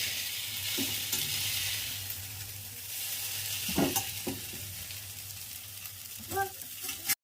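Second batch of chowmein noodles being stir-fried on a hot tawa griddle, with a steady sizzle throughout and occasional scraping and clinking of a utensil against the pan.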